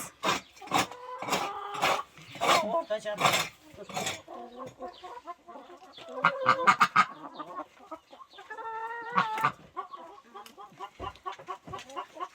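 Several chickens clucking close by in a chicken coop in irregular bursts and squawks, with short quieter pauses between the calls.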